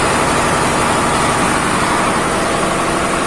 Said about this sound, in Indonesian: Nah, itu kamar mesin